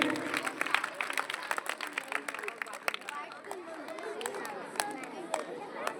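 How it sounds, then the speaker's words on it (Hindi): Children at a school Children's Day celebration clap in a scattered, lively burst of applause, with crowd chatter and hubbub mixed in throughout. "एक बार जोरदार तालियां होनी चाहिए।"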